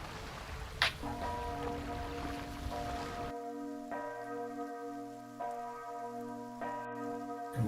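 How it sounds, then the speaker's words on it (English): A bell rings in slow repeated strikes over a background wash of rain, added as a sound effect during a tabletop Dungeons and Dragons session; the tones are clear and sustained, each struck note ringing out before the next. "you hear the sound of a bell ringing"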